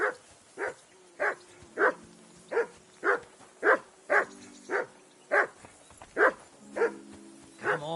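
A dog barks in the video game Kingdom Come Deliverance II, a steady series of about a dozen evenly spaced, sharp barks at mid distance, clear and alone without talk.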